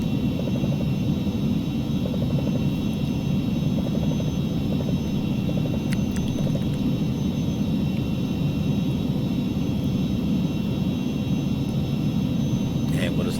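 Jet engines of a Falcon 50 climbing in the X-Plane 11 flight simulator, a steady broad roar with a faint rhythmic tone, continuous and unchanging.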